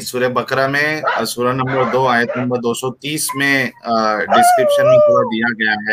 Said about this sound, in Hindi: ये कुत्ता कहाँ से भौंक रहा है